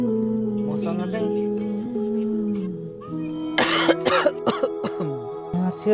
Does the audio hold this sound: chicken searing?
no